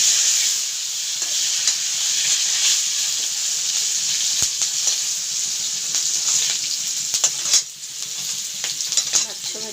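Potatoes frying and sizzling in a pan with steady hiss and occasional stirring scrapes, close and continuous with no talking.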